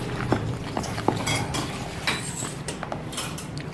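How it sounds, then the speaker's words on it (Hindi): Spoon clinking and scraping against a bowl while bread pakora batter of spices and green coriander is mixed into a thin liquid, a quick series of light taps and scrapes close by with no voice. "ये देखिए सबको मैं मिक्स कर रही हूँ अच्छे से।"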